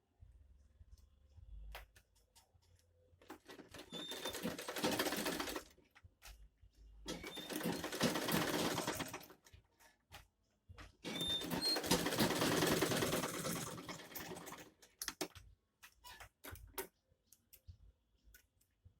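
A sewing machine stitches a mini bag in three separate bursts of whirring, each a few seconds long, with quiet pauses and small clicks between them.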